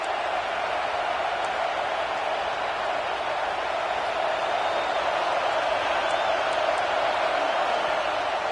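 Stadium crowd in a college football video game, a steady dense roar of cheering with faint whoops, heard at a distance and continuing without a break.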